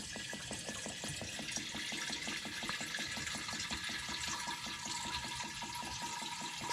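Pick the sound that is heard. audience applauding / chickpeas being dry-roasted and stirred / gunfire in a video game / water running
water running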